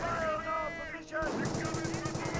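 Gunfire from infantry fighting in the Company of Heroes 1 World War II strategy game, heard as rapid rattling bursts and sharp shots at mid-distance over a busy battle backdrop.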